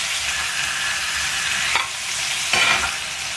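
Masala fish fillets fry on a tawa in their own released juices, producing a loud, continuous close sizzle with a couple of brief surges as the pan is shifted.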